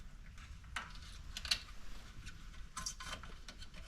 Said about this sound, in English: zip tie my cable into location